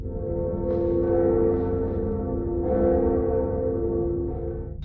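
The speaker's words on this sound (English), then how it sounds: "The player rings the second bell." The second Bell of Awakening in Dark Souls tolls in a deep, sustained church-bell ring that swells and lingers, struck roughly twice over a few seconds.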